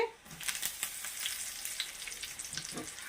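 Curry leaves and chana dal crackle and sizzle in hot oil for a tempering, with bursts of popping spatter over a steady frying hiss, close up and without speech.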